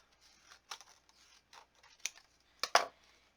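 Scissors snipping a piece off a mixed-media garden tin craft, a few quiet, scattered cuts with a louder pair of snips near the end, close and otherwise silent.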